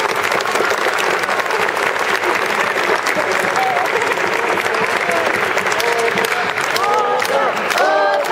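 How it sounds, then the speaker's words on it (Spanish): Dense audience applause, loud and sustained throughout, with crowd noise and a few scattered cheers or whistles rising toward the end. "Les pido un aplauso también para mi compañero"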